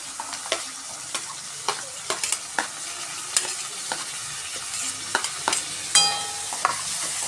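Onion sautés in a pan with green chillies for an eggplant bharit, a bright sizzle broken by repeated sharp spatula clicks and scrapes against the pan at an uneven pace, close and without talk.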